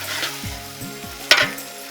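Ginger paste and spice masala fry in a pan for a fish and arum root dish, giving a steady close sizzle with a sharp burst of stirring and scraping in the middle.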